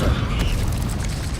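A Descendo spell in Hogwarts Legacy slams down with a heavy, rumbling impact over deep creaking mechanical noise, loud and sustained through the whole moment.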